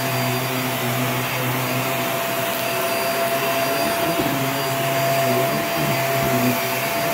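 A Hoover React Professional Pet vacuum cleaner runs continuously on a rug with a loud, steady motor roar and a high whine, its tone shifting slightly as it moves.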